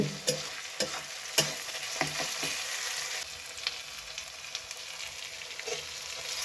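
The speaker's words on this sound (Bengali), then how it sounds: "এটাকে তেল দিয়ে প্রথমে ভালো করে কষে নেব মশলাটা তেল দিয়ে ভালো করে মশলাটাকে কষে" Masala with tomato, green chilli and Maggi seasoning fries in oil for a chicken dish, a continuous crackling sizzle punctuated by regular spoon taps and scrapes against the pan, close and without voices.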